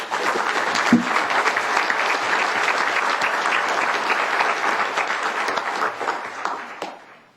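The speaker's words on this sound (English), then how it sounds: "if we could give them a big round of applause" Continuous applause fills a tribal council meeting room, a thick even roar of many hands clapping that holds steady throughout and tapers off sharply in the final moments.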